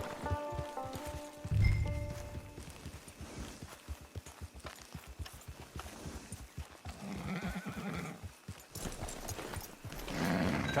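Horse hooves clip-clop steadily at a walk in Red Dead Redemption 2, a repeating rhythm of close, moderate hoofbeats with occasional snorts and background ambience, no talk over them.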